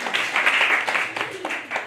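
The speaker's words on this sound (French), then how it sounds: "Et applaudissez-le, Julien, parce qu'il est très fort." A live audience at a French comedy club show claps and applauds briefly, a dense burst of clapping with a voice talking over it.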